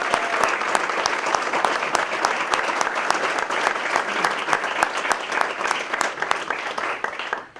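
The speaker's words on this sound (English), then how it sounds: "So I would like you guys to give a round of applause to Paul." Steady audience applause at an awards breakfast, a dense wash of many hands clapping at close range for several seconds before tapering off at the end.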